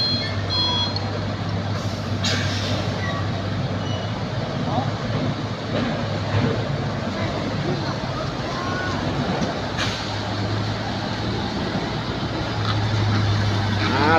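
A refrigerated trailer truck backs into a loading bay at a cold storage facility in the morning. Its reversing alarm beeps steadily and repeatedly over a constant diesel engine rumble, and faint voices can be heard nearby.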